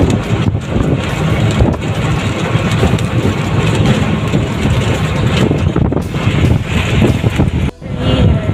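Wind roars across a long vehicle bridge, heavy and gusting, with a low engine-like rumble beneath it and a brief dip near the end.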